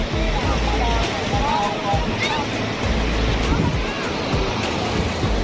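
Ocean waves roll in steadily at Bagasbas Beach in Daet, Camarines Norte, a continuous broad surf wash with wind buffeting the microphone, heard from a beachfront bar with faint voices in the background.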